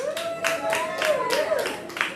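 Audience clapping at a comedy show at the Peach, with loud, uneven bursts of hands over a host's voice talking through it.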